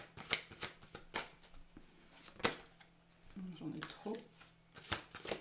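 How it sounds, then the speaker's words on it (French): Tarot cards being shuffled and drawn, producing a series of crisp riffling bursts and soft flicks close up, alternating with someone speaking quietly in French. "Allez, on va tirer toutes les cartes"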